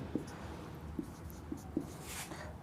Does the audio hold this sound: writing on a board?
yes